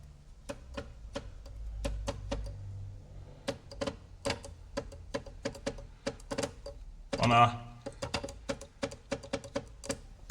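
A jammed electric fuel pump in the tank of a Lancia Delta 1.4 turbo with LPG clicks and ticks rapidly and irregularly as it tries to start, with a brief rattling burst midway and a low hum early on.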